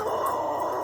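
A dog gives a short, close howling bark, loud and alone, with a wavering, drawn-out tone.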